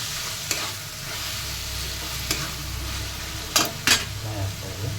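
Chicken masala fries steadily in a pan with a constant sizzle, broken by a few sharp spoon scrapes and stirring clinks.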